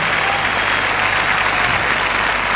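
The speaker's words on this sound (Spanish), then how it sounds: "El aplauso de la Quinta Vergara." A large outdoor festival audience at Quinta Vergara, Viña del Mar, in 1982 applauds, making a dense, steady roar of clapping that holds evenly throughout.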